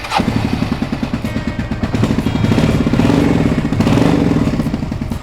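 A restored Suzuki SV650 motorcycle engine runs close by with a steady, throbbing V-twin pulse, loud throughout and rising slightly as it revs, without talk over it.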